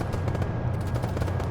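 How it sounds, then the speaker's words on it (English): Rapid, continuous bursts of machine gun fire rattle in the military video game Arma 3, dense and steady with no pause. "So machine gunner's shooting at the target."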